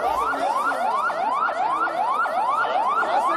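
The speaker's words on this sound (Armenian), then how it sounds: "Ճանապարհ դարձեք շտապօգնությունը հասնի" Ambulance siren at a street gathering, a loud, rapid yelp of rising sweeps repeating about three times a second, steady and close throughout with no voices.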